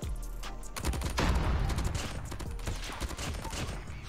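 Rapid gunfire from a Dingo machine gun, fired from the hip in a video game, comes as dense, sharp bursts that are quiet overall and continuous across several seconds.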